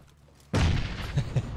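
A grenade goes off in the shooter game PUBG, a sudden loud booming blast that cuts in after near silence and rumbles on with a few smaller thuds.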